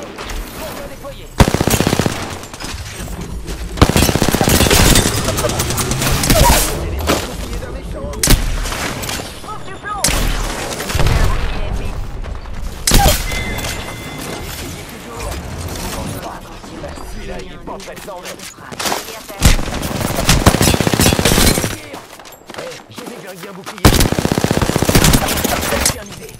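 A video game battle fills with loud bursts of rapid automatic gunfire. Several long volleys are separated by short lulls, and voices break in at times between and under the shooting.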